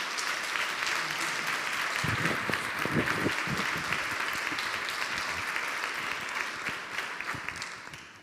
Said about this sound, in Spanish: les vamos a despedir también con otro aplauso